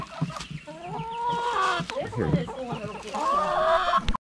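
Several chickens cluck and chatter up close in quick, overlapping bursts, with a brief spoken word mixed in.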